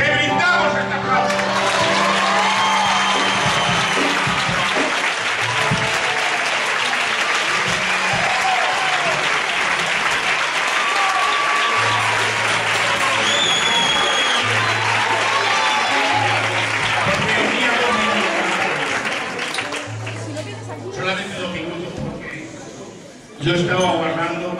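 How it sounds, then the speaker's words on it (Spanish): A church congregation gives a long, steady round of applause, loud and dense clapping with crowd voices mixed in, continuing for over twenty seconds before tapering at the end. "te brindamos este aplauso."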